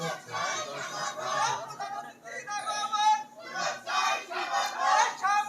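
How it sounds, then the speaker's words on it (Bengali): A crowd at a religious gathering chants slogans in unison for an arriving chief guest, loud rhythmic group shouting in repeated bursts with a few voices standing out. "দেন আপনারও স্লোগান দেন, প্রধান অতিথি আসছে।"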